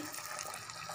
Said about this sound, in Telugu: టామరిన్ జ్యూస్ స్టార్ట్ చేశాను పోయటం.